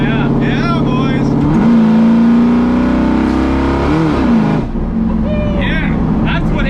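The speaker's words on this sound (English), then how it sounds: "That's what 8 cylinders sound like." A V8 engine in a Fox body Mustang revs hard, loud and close, its deep roar rising and falling through several pulls while people cheer and talk over it.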